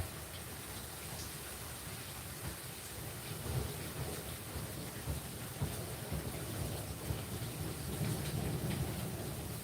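Steady rain with rolling thunder, a dense continuous wash of falling drops and low rumbles, fairly faint and without voices.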